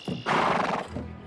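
A horse lets out a short, close neigh in a single loud burst, with a faint thud at the start.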